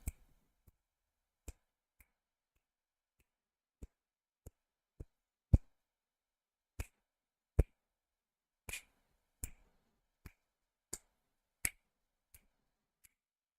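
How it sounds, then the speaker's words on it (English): Fingers snap slightly behind a microphone, about a dozen single sharp clicks spaced irregularly over quiet, some faint and some louder, with no talking. "if I snap my fingers slightly behind the microphone"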